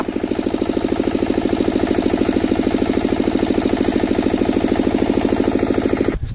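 A Kilo Star 7.5 kW generator idles close by with a loud, steady engine chug: a rapid, even pulsing that runs unbroken until a brief break at the very end.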